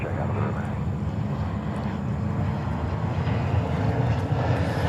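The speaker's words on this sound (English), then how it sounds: "And we have Delta coming in on a 330-300, flight 47, a little screamer." Delta Airbus A330-300 airliner on arrival at JFK airport in New York, a loud sustained jet engine roar that holds steady throughout, with a voice talking over it.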